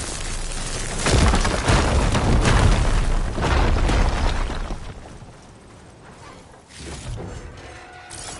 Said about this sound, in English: Now that I have the igniter, I can get rid of that fire gleam.